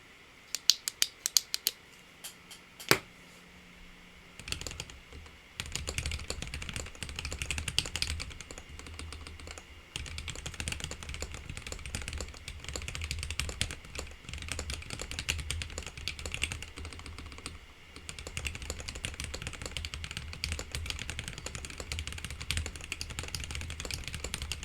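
Typing on a Corne custom mechanical keyboard, bursts of crisp key clicks and clacks at close range, sparse taps at first then a dense, continuous flurry of keystrokes, no talk.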